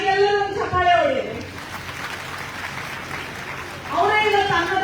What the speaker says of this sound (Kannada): ಆ ತಾಯಿಗೆಲ್ಲರೂ ಒಂದು ಚಪ್ಪಾಳೆ ಹೊಡಿರಿ.